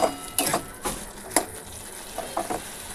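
Spice paste of ground dried ginger being fried and stirred in a pan on a gas stove, a soft sizzle broken by repeated scraping strokes, close up with no talk.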